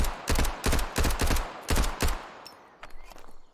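Unsuppressed gunshots from the game Road to Vostok, about seven loud, sharp cracks in quick uneven bursts with booming low ends, followed by quieter mechanical handling clicks.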